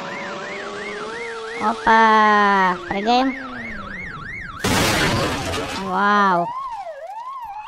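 Police car siren in the BeamNG driving game, a wailing electronic tone rising and falling repeatedly through the clip, loud and close, broken by crash and impact noise while someone speaks excitedly over it.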